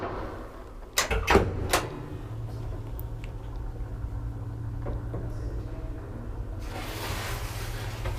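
Early 1960s Kone traction elevator with wooden car and doors in a Helsinki apartment building: a cluster of clunks and thuds as the doors move, then a steady mechanical hum and a rising hiss near the end.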